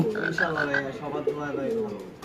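Pigeons at a pigeon sale coo softly in short, throaty rolls while someone talks over them close by.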